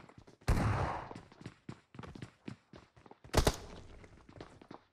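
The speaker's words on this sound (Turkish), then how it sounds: "Bana mı attı ya mermi?" Gunfire in PUBG Mobile, two loud close shots with long decaying tails about three seconds apart, between scattered quieter sharp cracks and pops spread across the clip.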